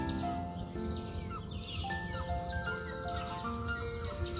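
Sparrows chirp in short, high tweets that repeat irregularly over a steady background murmur, fairly close and moderately loud, with no voices.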